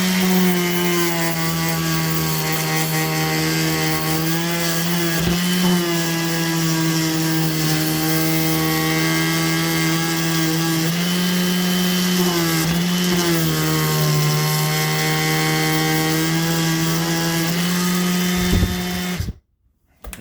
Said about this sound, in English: What we got here is a sander.